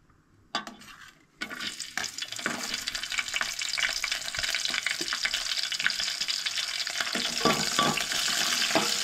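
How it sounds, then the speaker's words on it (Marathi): A loud burst of hot-oil sizzling begins after a brief pause as prawns hit hot oil with chillies, then continues as a steady, intense crackle with stirring clanks, close and without speech. "सो आतां सुंगटां फोडणी घालूया."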